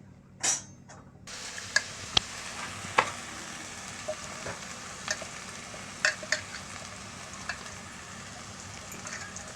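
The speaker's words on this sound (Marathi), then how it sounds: "पूर्ण मसाला असा भाजून घ्यायचा" Whole spices, bay leaves, peppercorns and cloves roasting dry in a pan for paneer tikka masala, a faint steady crackle broken by scattered sharp ticks and scrapes.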